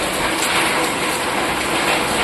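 Rain pours down outdoors as a steady, dense hiss that stays loud and unbroken throughout, with no talking.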